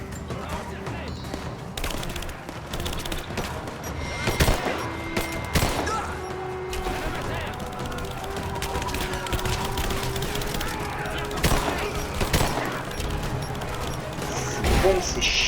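Repeated gunfire bursts and sharp blasts from a shotgun and other weapons ring out during combat in the video game Rise of the Tomb Raider, loud and irregular, with someone talking over the action.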